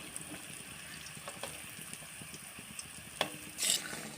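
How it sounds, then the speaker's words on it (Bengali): Lentil and potato peel fritters fry gently in oil with a soft, continuous sizzle, scattered small pops and clicks as they are turned, and a louder burst of hiss near the end. "বড়াগুলো এবার উল্টে দেবো একটু আস্তে আস্তে সময় নিয়ে ভাজতে হবে"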